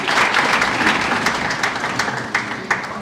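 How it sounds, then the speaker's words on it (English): An audience at a World Cancer Day event applauds debaters, a continuous, dense round of clapping with a few sharper claps standing out near the end. "Another round of applause to the debaters."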